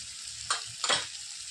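Asafoetida and turmeric drop into hot oil for a bitter gourd chutney, setting off two quick, close sizzling bursts over a faint steady frying hiss.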